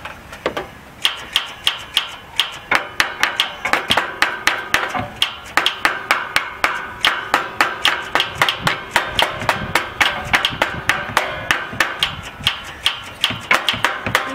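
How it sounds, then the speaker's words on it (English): A plastic hammer strikes a starter solenoid on a Wright Stander mower in rapid, steady, sharp raps that repeat close and loud for many seconds, with only brief pauses between bursts. "we'll take this plastic hammer and we will hit it"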